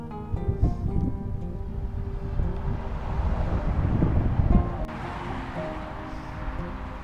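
Wind buffets the microphone of a cyclist riding a bike path along a highway, a steady, rumbling roar that swells and eases, with no talking.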